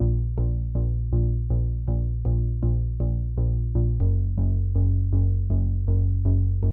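A gritty, distorted synth bass from a plucky Uno preset with square oscillator plays a steady pulsing line of notes, shifting pitch partway through, loud and upfront with no voices.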